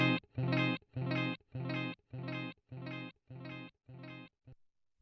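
Electric guitar run through a Joyo R-07 Aquarius delay pedal, a string of about nine evenly spaced repeats that gradually weaken, each one stopping abruptly before a final faint, clipped echo.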